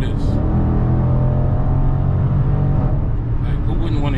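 Dodge Challenger 392 engine idling and rumbling loudly with a deep steady drone, a slight rev swell near the end, heard close up while someone talks over it.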